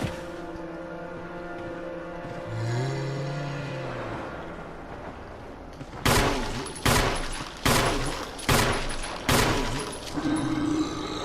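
Five heavy, evenly spaced gunshots ring out in Resident Evil HD Remaster, each a sharp loud blast with a short decay, following a quieter stretch of eerie game ambience.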